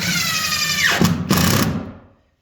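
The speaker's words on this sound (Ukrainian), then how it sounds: "И далее закручуємо саморезы импактом. до упора" An impact driver sets a screw into floorboards laid over old creaky parquet, a close, loud whirring burst that changes pitch, hammers briefly, and then stops.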